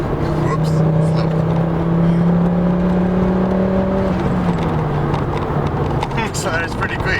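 A facelifted five-cylinder Ford Focus ST accelerates hard, its engine note droning steadily and rising through a loud in-car drone, then easing after a shift.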